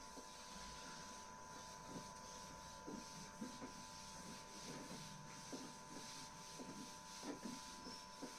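Writing on a classroom board being rubbed away, a run of soft repeated scrubbing strokes under a steady background hiss, close and quiet, with no talking.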